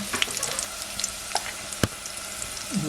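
Chopped onion sizzles in hot tempering oil for a village-style chicken curry cooked over a wood-fired clay stove, a steady close crackle with a few sharp pops and a brief stirring scrape near the end.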